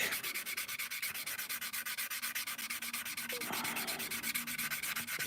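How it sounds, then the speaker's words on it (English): Steady back-and-forth sanding of raised panel lines on a plastic Airfix Concorde model kit, a close, rhythmic rasping scrub repeating evenly for several seconds with no talking. "I think that's gonna be enough underneath here. I think it's pretty much sanded back."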